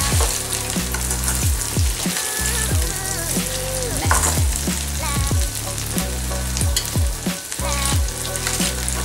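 Goat brain frying in a pan while being stirred slowly, a dense close sizzle broken by repeated scraping and clinking of a spoon against the pan, no voices.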